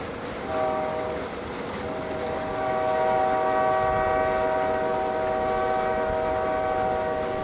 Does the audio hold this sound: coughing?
no